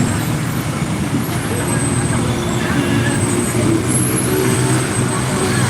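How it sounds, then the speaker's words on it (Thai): Dense stop-and-go traffic jam in both directions on Phetchaburi Road near Pratunam, Bangkok, slowed by roadworks for an electric train line: a steady, loud wash of engine rumble and road noise with no pauses. "ฝั่งนี้ขาเข้าขาออกรถติดเพราะว่าก็ทำถนน"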